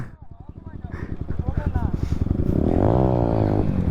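A motorcycle idles and revs up at a stunt practice ground, its pulsing engine note climbing and growing louder up close as people talk over it.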